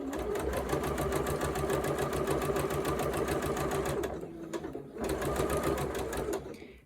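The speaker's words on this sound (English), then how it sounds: "I go ahead and start sewing" Sewing machine stitching a fabric curve under a quarter-inch foot, a fast even needle rhythm running steadily, pausing briefly partway, then resuming before stopping.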